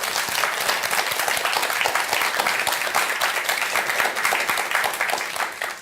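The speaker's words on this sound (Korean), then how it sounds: "박수 쳐주세요" Steady, dense applause from an audience at a Buddhist lecture gathering, loud and continuous for several seconds before tapering at the end.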